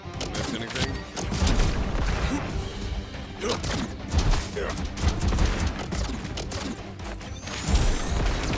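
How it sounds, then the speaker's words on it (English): Flamethrower fire from Contra: Operation Galuga gameplay, a dense, continuous roaring blast with crackling bursts and mechanical clatter mixed over a busy game soundtrack, loud and steady for several seconds. "Ooh, flamethrower."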